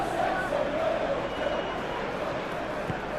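Stadium crowd in the PES 21 football game during a Manchester City versus Inter Milan Champions League final, a steady broad roar of cheering and applause that holds at an even level throughout.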